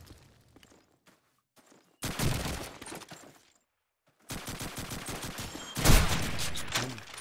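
Bursts of gunfire in a Call of Duty 2 match, with rapid automatic volleys and sharp shots in two dense clusters separated by quiet gaps, loud and close.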